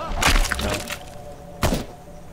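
Two sharp video game gunshot cracks, the first with a short rattling tail, the second about a second and a half later, close and punchy over low background hum.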